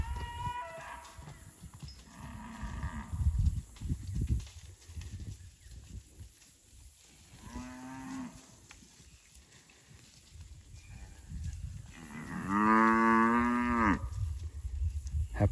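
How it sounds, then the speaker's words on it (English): Cattle on a farm moo several times amid outdoor background noise, with one long, loud, wavering moo near the end and shorter, fainter calls earlier. "Happy cattle."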